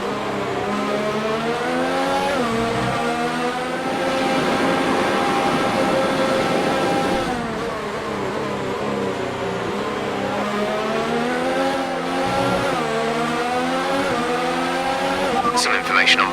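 A Formula 1 car in the F1 2019 racing game, its engine held at a steady high whine with pitch shifts through gear changes and a brief rise near the end, loud and continuous, with a voice talking over it.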